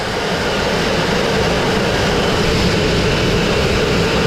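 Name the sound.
dustless blasting machine cleaning smoke-damaged brick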